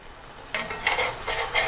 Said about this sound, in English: This is called, in most kitchens, deglazing the pan